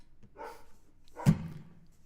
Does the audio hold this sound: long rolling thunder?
no